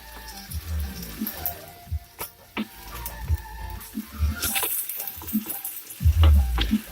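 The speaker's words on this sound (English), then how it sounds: "So I've got this chicken going with a little olive oil." Raw chicken frying in a little olive oil in a pan, with soft intermittent sizzling, stirring and scraping clatter, and the occasional splash of running water nearby.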